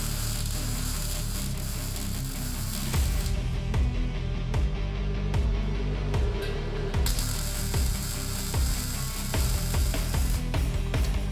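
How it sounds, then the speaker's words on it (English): Steady crackling buzz of welding on the rear fender of a Honda CB750 cafe racer motorcycle, continuous and close for the whole stretch with a few brief breaks in the sizzle and no voices. "First by welding the front of the fender."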